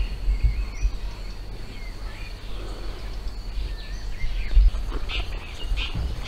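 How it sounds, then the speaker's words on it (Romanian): Small birds chirp and call in the countryside, a steady faint chorus of scattered tweets over a constant high insect-like hum, with occasional low thumps nearby and no speech. "să ascultăm păsărele cum cântă"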